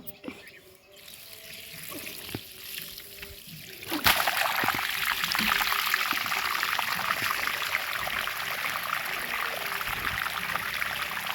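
Water gushes and splashes steadily from a pipe onto grass in a Konkan village field after a quieter start, a continuous rushing flow close by with faint birds in the background.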